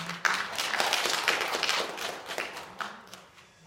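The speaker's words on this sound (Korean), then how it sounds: "하나님께 영광의 박수 올려드리겠습니다" Members of a Sunday afternoon church congregation applaud together in a dense, even burst of clapping that rises and then tapers off over a few seconds.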